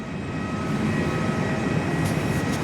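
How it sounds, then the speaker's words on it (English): Jet engines of a Virgin Australia Boeing 737-800 taxiing out for takeoff at Perth Airport give a steady, loud, broadband whine and rumble heard from an indoor viewing platform, with no speech. "a Virgin Aussie 737-800 is now taxiing out for takeoff"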